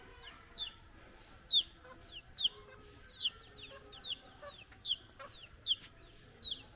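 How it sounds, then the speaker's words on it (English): Chickens, including chicks, cluck and chirp in short repeated bursts, about one per second, over a quiet outdoor background in a rural Bangladeshi village. "you can see there are lots of chicken, and actually baby chicken too"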